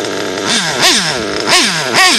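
Small motorbike engine running rich revs up in three sharp, loud blips, each pitch climbing then falling back to a buzzing idle between them.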